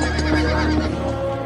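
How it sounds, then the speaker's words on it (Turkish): Horses whinny in a loud, close neigh over a steady rumbling background, brief and continuous, in a film action scene. "Atlar geliyor!"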